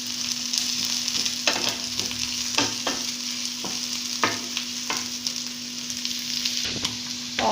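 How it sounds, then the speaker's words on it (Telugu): Onions and carrots sizzle steadily in a pan for paneer burji, with a spoon scraping and clacking through the mix every second or so, close and continuous with no talking. "ఆనియన్స్, క్యారెట్ కొంచెం ఫ్రై అయిపోయింది."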